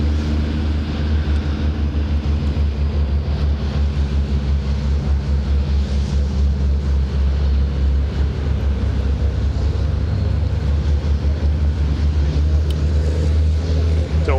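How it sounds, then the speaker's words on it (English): Racing pickup trucks at Thruxton circuit rumble steadily in the distance, a continuous low engine drone with no single vehicle standing out, as the trucks make their way in after the race. "So we'll wait for the trucks to make their way in."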